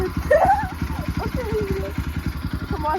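Bajaj Pulsar NS200 motorcycle engine runs with a steady pulsing rumble as a novice rider gently works the throttle, loud and close, while people talk and laugh over it.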